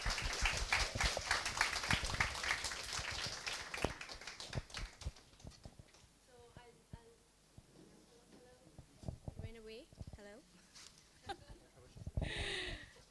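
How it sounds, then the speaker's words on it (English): Audience applause for a speaker being introduced at an AI conference in Kuala Lumpur, a dense burst of clapping at the start that fades out over a few seconds, followed by quieter talk and a short burst of noise near the end. "can I have a big round of applause for Asif?"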